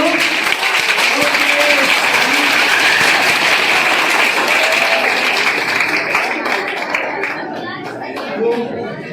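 Loud, sustained applause from a large student audience at a motivational seminar held at an inter college, dense clapping with crowd chatter, tapering slightly toward the end.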